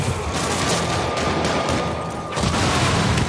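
Rocket explosions and blasts rage in Spider-Man Remastered combat, a dense, loud barrage of booms and rapid bursts filling the whole stretch with little pause.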